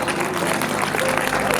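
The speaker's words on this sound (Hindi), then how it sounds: "अभी तालियां कम है" Steady applause from a poetry recital audience at a kavi sammelan on a fair stage, a dense even patter of clapping hands throughout, with faint crowd murmur underneath.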